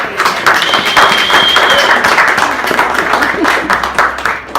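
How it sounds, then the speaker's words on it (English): A gallery crowd at an exhibition opening applauds two people with loud, sustained clapping, with scattered voices and a brief whistle-like tone mixed into the dense patter. "can I just have a round of applause for Galindi and Rosalind, please?"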